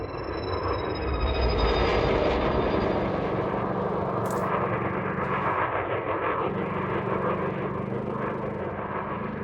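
Spaceship engine and thrusters in the space-combat game Elite Dangerous hum steadily as the craft pitches, yaw and rolls, a continuous whooshing drone with shifting tones and a brief hiss of a thruster burst partway through.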